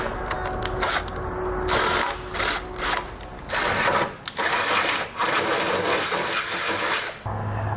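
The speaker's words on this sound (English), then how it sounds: "we're going to use these holes as guides to drill holes through the frame there." Close-up power drill boring through the metal frame of a 2019 GMC Acadia, whining bursts that start and stop several times with short pauses between, loud and harsh.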